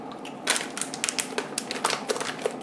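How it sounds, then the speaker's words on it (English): A plastic zipper on a reclosable bag is pressed shut, making a quick run of small crackling clicks and snaps that are close and uneven, heard with no voices. "and then reclose the bag."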